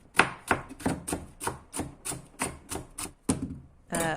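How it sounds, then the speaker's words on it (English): A knife chops spring onions finely on a board for kimchi, with about a dozen crisp, evenly spaced strokes heard close and alone. "I actually took 2 spring onions and chopped them finely"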